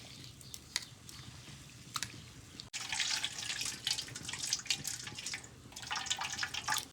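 Urad dal being washed in hot water, with a steady rush of running water and wet splashing that gets louder and busier partway through, close by and with no voices.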